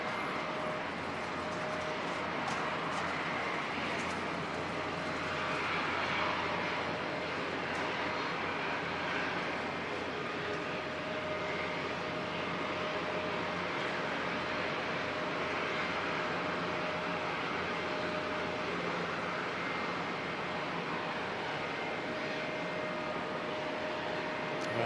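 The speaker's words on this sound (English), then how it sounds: "Dashi coming in now from Whangarei." Dash 8 turboprop airliner arriving at Auckland Airport from Whangarei, a steady broad engine roar that holds at an even, moderately loud level throughout with a faint tonal whine, no talk.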